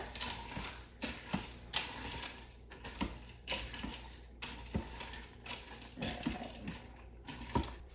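Wide egg noodles are stirred in an Instant Pot of beef stroganoff, with close, irregular scrapes, clicks and soft thuds over a low hiss and no talking.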